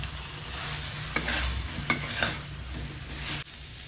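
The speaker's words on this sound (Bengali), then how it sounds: "বেশ সুন্দর করে কষে গেছে আর কড়াইতে লেগে লেগেও আসছে মশলাটা।" Masala paste for a raw-banana Bengali fish curry frying in a kadai over a medium flame, a steady close sizzle with a few sharp scrapes and stirring clatters, no voices.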